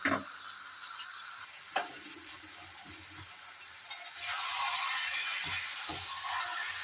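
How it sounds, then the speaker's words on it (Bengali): Jackfruit, potato and liver sauté in a pan with soft spatula scrapes and knocks over a quiet sizzle that swells into a louder, steady frying hiss in the second half, close and alone, no talking. "কিছুক্ষণ কষিয়ে নেবো এঁচোড় আর আলু মেটের সঙ্গে।"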